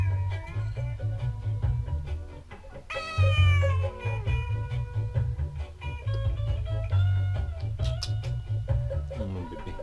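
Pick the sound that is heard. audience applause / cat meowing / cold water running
cat meowing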